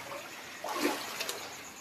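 Rainwater floods into a house during heavy rains in Hyderabad, Telangana: faint, soft trickling and splashing of water with a brief swell near the middle, no talk.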